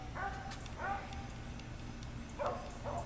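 A dog barks in short bursts in a garage shop, a few yips spaced apart over a low steady background hum, moderately close.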